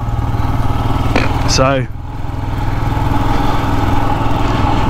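A brand new Royal Enfield Himalayan motorcycle engine hums steadily while riding, a low rumbling drone that dips briefly and then swells again, with someone speaking over it partway through.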